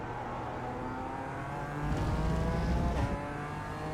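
A BMW M4 Evo GT4 race car in a sim-racing game at Zandvoort, its engine pulling steadily in third gear with a droning, rising note that swells briefly midway. The car is heard alone, with no talk.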